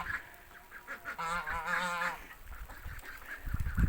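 Geese honk near ducklings, giving a short run of nasal, wavering calls close by, with quieter bird sounds around them and a burst of rustling at the end.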